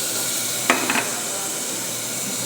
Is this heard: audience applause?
no